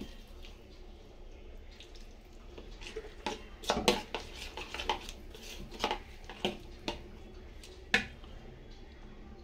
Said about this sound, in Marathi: त्याला थोडंसं पाणी ऍड करून ह्याला प्रॉपर असं मिक्स करून त्याची एक स्लरी करून घेऊया